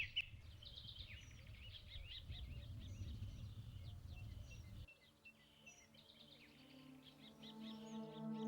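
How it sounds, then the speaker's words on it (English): A dawn chorus of birdsong on a World War I front line, many birds chirping and trilling together at a faint, distant level, over a low background rumble that drops away partway through. "there rose a sound never heard before on the front line, a dawn chorus of birdsong."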